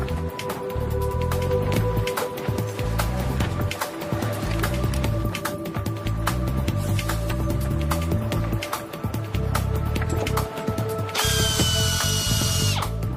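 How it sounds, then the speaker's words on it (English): Power drill running steadily underwater as divers in dry suits bore holes for mounting brackets on a bridge structure in Greece, with a continuous whining motor and grinding texture throughout, plus a brief higher hiss near the end. "All this just to drill holes for mounting brackets."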